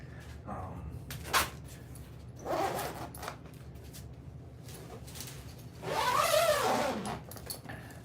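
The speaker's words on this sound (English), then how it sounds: "Don't you love that zipper sound?" A zipper is pulled a few times, two quick zips and then a longer drawn-out one, close by over a low steady hum.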